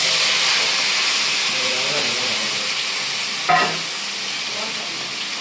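Tomatoes and onions frying in a near-dry pan for a squid gravy give a steady close sizzle and hiss, with soft stirring scrapes and one brief louder clatter partway through.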